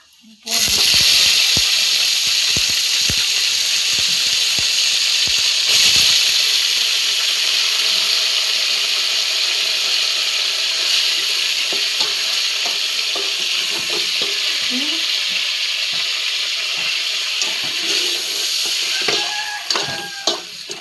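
Turmeric-coated chicken pieces fry in a hot pan, a steady loud sizzle and hiss running throughout with occasional stirring scrapes and clinks near the end.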